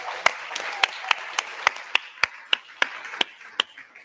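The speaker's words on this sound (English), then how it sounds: "One more round of applause." Scattered, sparse hand clapping from an audience at a live skills awards ceremony, about a dozen distinct claps spread evenly over a few seconds, moderately close and without voices.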